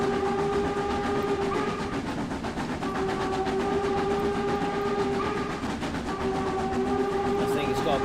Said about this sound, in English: I think it's got about 4 different whistles on that one